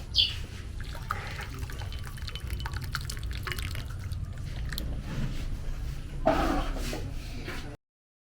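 Hot water pours onto parboiled rice in a kitchen, a steady close trickle and splash that swells briefly near the end before cutting off abruptly.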